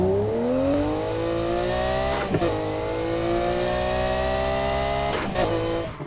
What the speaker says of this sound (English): the sound of this V12 is what I hear when someone says the word supercar.